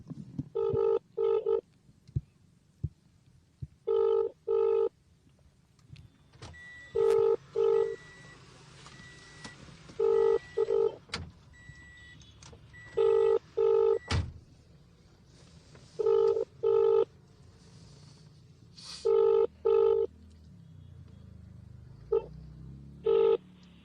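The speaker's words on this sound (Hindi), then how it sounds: "अब मैंने फिर से एक बार कॉल लगा दिया, स्पीकर पर फ़ोन ले लिया है" Ringback tone from a call to a government COG number in Lucknow on a speakerphone, repeating paired rings every few seconds, loud and clear, with small clicks and handling noises between them and no speech.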